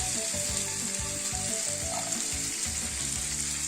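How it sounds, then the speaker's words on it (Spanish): Peppers frying slowly over low heat in a pan for tumbet, a steady close sizzle with soft rhythmic stirring knocks underneath and no talk. "aquí el pimiento se deja a fuego lento por un buen rato"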